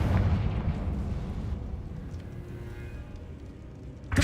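A Confringo fire spell explodes in Hogwarts Legacy, a loud low boom at the start that rumbles and fades over a few seconds, with a sharp burst at the end.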